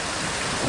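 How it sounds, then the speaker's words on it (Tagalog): Heavy rain pours steadily in a thunderstorm, with a dense roar of rumbling thunder and downpour filling the whole short stretch, loud and close with no voices. "Ang lakas ng kidlat na yon!"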